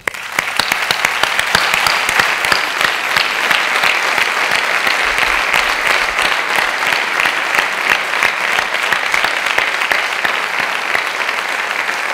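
A theatre audience at a folk dance gala breaks into loud, sustained applause that swells quickly and holds steady, a thick wash of many hands clapping close by, with no talk over it.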